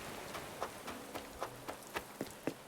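Rain falls in the video game Animal Crossing, a soft, steady hiss with light, evenly spaced drip-like ticks over it, quiet and with no voices.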